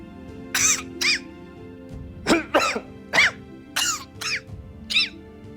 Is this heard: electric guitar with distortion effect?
no